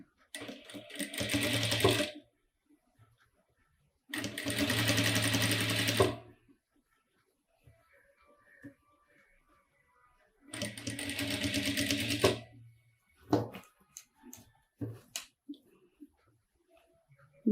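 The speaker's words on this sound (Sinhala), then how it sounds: "වාටියක් මහ ගන්නවා" Sewing machine stitching a hem on a garment, running in three sustained bursts of steady rapid stitching separated by pauses, followed by a few short clicks and handling sounds near the end.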